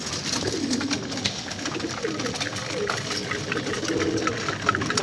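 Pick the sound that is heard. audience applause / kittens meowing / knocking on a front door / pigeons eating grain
pigeons eating grain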